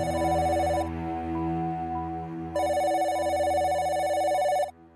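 A telephone rings in two long electronic bursts separated by a pause, loud and close, with no one speaking.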